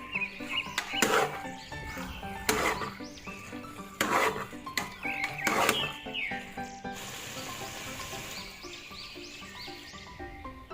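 Carrot halwa with almonds and pistachios is stirred and roasted in a pan, giving several sharp scraping clanks of a spoon against metal over a soft background sizzle, with no talking.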